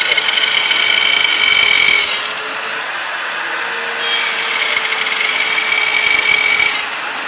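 A Peachtree dovetail jig cuts dovetails through hardwood, a steady high-pitched power-tool whine that runs loud, eases to a lower steady drone mid-cut, then rises again toward the end, with no talk.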